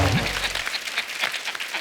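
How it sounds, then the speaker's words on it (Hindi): A television comedy-show studio audience breaks into applause after a low voice briefly trails off, the clapping continuing steadily to the end. "तालियां मार दो इसमें।"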